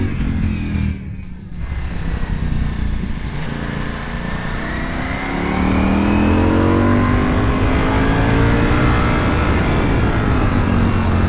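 Ducati Panigale V4S superbike accelerating on curving roads, its loud engine climbing steadily in pitch through the gears, close and continuous with heavy wind rush.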